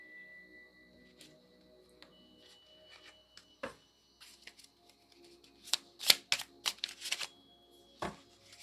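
Soft riffling and snapping of tarot cards being shuffled close by, a few quiet taps before a quick flurry of crisp flicks.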